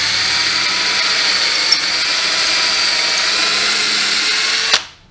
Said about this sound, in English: I'll come back and I'll re-drill that again with my other bit.